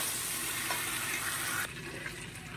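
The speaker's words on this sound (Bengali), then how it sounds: "হালকা লাল করে চিংড়ি মাছটা আমি 3 থেকে 4 মিনিট ভেজে নিয়ে এবার তুলে নেব।" Prawns fry in hot oil with a steady, dense sizzle that holds loud and close, then drops slightly in level partway through.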